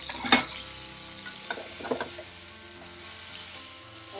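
Fried chicken pieces being stirred in a pan for chilli chicken, a low sizzle with a few distinct clinks and scrapes of the spoon against the pan.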